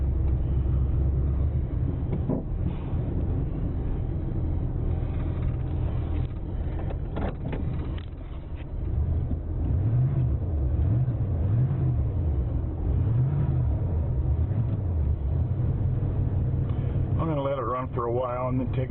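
A 1992 Ford F-150 engine idles with a steady low rumble after a very cold start, loud and close throughout, with a voice talking over it part of the time.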